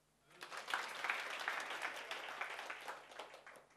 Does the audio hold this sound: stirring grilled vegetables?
no